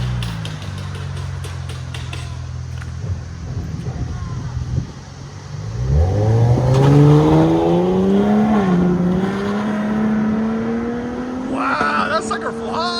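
A straight-piped Cadillac CT5-V exhaust idles with a low rumble, then revs and accelerates hard, its pitch climbing through loud gears up close before dropping back.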